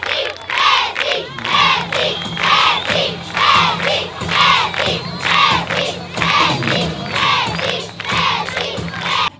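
A large crowd at the opening of upgrades to a sports centre in Rosario cheers and shouts in rhythmic, swelling bursts, loud and close, with a chanting quality rising and falling every second or so.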